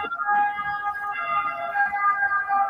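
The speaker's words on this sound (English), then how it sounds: "That's the ambulance." Ambulance siren sounding outside a meeting room, a steady wailing tone held throughout, moderately loud and alone with no talk over it.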